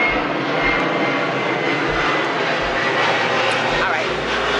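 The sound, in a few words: airplane flying overhead near an airport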